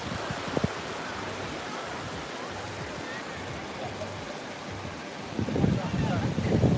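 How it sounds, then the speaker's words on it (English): Gulf waves wash onto the quartz-sand shore of Siesta Key Beach, Florida, a continuous soft surf hiss mixed with wind buffeting on the microphone, with a stronger surge of water and wind toward the end. "you can hear the sound of the water, I'm glad."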